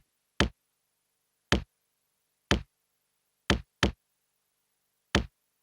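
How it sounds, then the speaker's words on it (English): Six sharp, punchy kick drum hits from a dub reggae track sound alone in silence, evenly spaced except for two in quick succession. "The first track just got a kick drum."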